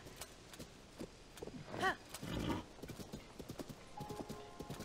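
Horse hooves in Zelda: Tears of the Kingdom, a brisk clip-clop gallop with a short whinny partway through, fairly quiet and steady under game ambience.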